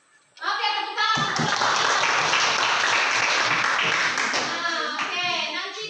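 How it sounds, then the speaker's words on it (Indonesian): A classroom audience bursts into steady applause, dense clapping that starts abruptly and holds loud and even for several seconds, with a few voices mixed in at the start and end. "tepuk tangan"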